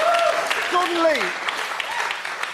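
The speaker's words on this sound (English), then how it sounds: "Yes, you can clap him, why not?" Studio audience clapping on a football discussion show, a steady broadband patter lasting a couple of seconds while someone speaks over it with rising, gliding intonation.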